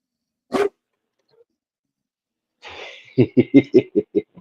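A 160-pound young dog lets out one bark, then after a pause a quick run of about eight loud, close barks, with no talk over them.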